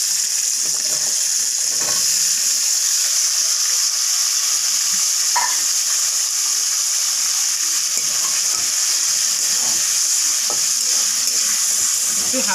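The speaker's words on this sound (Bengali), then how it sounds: "ভাজা হয়ে গেছে, এখন এর মধ্যে মিষ্টি কুমড়োগুলো দিয়ে দিচ্ছি।" Pumpkin pieces sizzle in hot oil for a long, even stretch, a bright continuous hiss with scattered pops and occasional faint utensil knocks.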